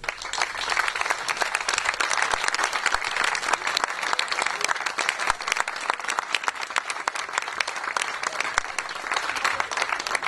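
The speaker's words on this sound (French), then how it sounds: "On peut applaudir Axel à la guitare et Luna au violon." A concert audience applauds guitarist Axel and violinist Luna, a dense, sustained burst of many hands clapping close and loud, holding steady for about ten seconds.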